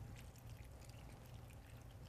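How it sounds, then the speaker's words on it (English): Water from a cup pours steadily into a cooking pan holding pears and spice, giving a continuous close splashing rush with no speech over it. "And we'll add a cup of our water"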